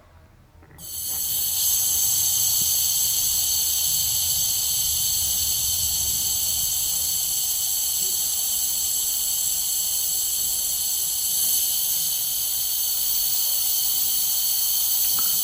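A spray gun lays down a coat of B5 Blue paint on a 1970 Challenger interior and trunk, producing a loud, steady, continuous hiss that starts abruptly and runs unbroken to the end.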